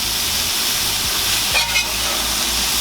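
Chicken fajita strips sizzle loudly in a hot pan as a spatula flips them, a steady close frying hiss with a couple of brief scraping turns near the middle.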